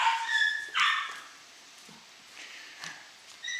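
Excited dogs bark and yip in quick bursts, a couple of loud barks up front followed by softer yelps and whines.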